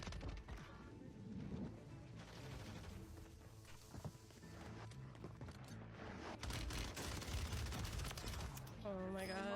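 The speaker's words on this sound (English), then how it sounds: "jumping straight at an enemy who's shooting her" Rapid gunfire from an enemy in the Warzone 3 video game, dense bursts of shots mixed with game effects and music, with a voice talking over it.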